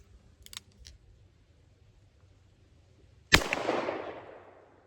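A single .357 Magnum revolver shot fired with warm semi-wadcutter lead loads cracks out loud and sharp, then rolls away in a long fading echo, following a couple of faint clicks.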